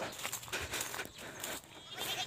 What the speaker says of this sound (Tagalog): Ito yung mga buntis nating kambing